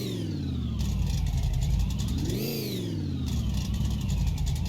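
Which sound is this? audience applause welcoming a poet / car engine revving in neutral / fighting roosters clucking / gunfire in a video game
car engine revving in neutral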